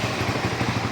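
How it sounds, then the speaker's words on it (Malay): Honda RS150 motorcycle engine idling after a new cam chain tensioner was fitted at about 86,000 km, a brief, close, steady low putter with even rhythmic pulses. "Enjin kita bunyi dah sedap. Tak ada bunyi dengung-dengung."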